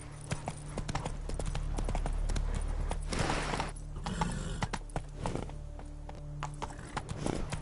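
The horse Roach gallops across terrain in The Witcher 3, its hooves making a rapid, rhythmic clip-clop over a low game ambience, with occasional tack and gear rattles, fairly faint.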